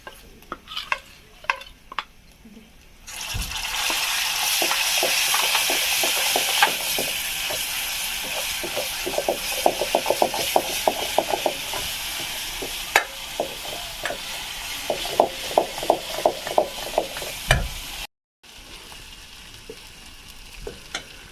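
Spices hit hot oil in a pan for a green pigeon pea and paneer curry, sizzling loudly and steadily while a spoon stirs with quick repeated scrapes and taps, after a few seconds of quieter stirring.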